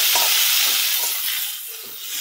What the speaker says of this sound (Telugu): సో మనం కొద్దిగా మెత్తబడేంత వరకు ఫ్రై చేసుకున్నాం